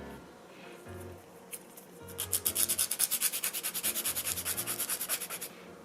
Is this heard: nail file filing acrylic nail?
yes